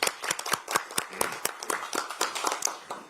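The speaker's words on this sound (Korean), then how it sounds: "큰 박수를 부탁드리겠습니다" Scattered hand clapping from a modest audience at a Democratic Party talent-recruitment ceremony, distinct separate claps in an uneven rhythm with no talking over them.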